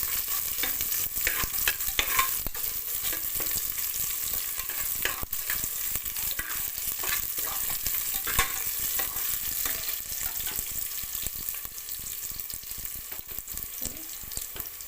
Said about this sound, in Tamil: பச்சை மிளகா போடுறேன். நல்லா ஹை ஃப்ளேமில் வச்சுருக்கனால சீக்கிரமாகவே வணங்குதுங்க.